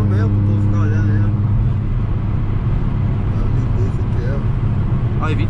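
A Volkswagen Jetta five-cylinder with a straight exhaust holds a loud, steady engine roar up close, with rising revs at the start and near the end, and people talking over it throughout.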